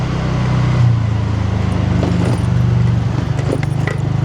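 A car drives off a ferry jetty from Uran toward Alibaug, a loud, steady engine and road rumble heard from close by with faint clatter and bumps as it moves.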